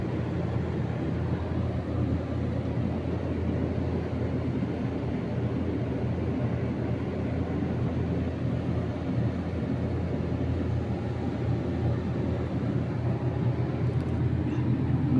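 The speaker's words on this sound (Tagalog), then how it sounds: "Gumagana yung compressor" An iced-up air conditioner compressor runs with a steady low hum and rumble that holds unchanged throughout, alone and fairly close.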